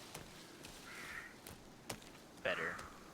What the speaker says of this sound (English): What is that bird doing?